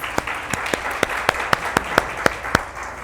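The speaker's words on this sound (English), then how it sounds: "give yourselves a round of applause" An audience at an education event claps for Changemakers program participants, a steady sparse rhythm of sharp individual claps over a soft bed of wider applause, brief and alone with no talk.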